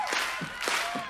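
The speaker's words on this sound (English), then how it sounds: "Clap your hands." Rhythmic hand claps from a crowd at a country song performance, four or so steady claps in a row, fairly loud and full.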